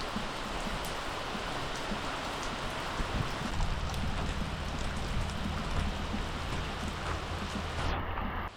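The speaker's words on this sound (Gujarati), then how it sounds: "અત્યારે વરસાદ થઈ ગયો" Steady rain falls, a soft continuous hiss of drops on surfaces heard alone throughout.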